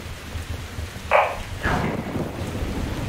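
A Metro Exodus thunderstorm pours steady rain with low thunder rumbling underneath, and a brief brighter crack or splash midway swells the otherwise even, fairly loud wash of sound.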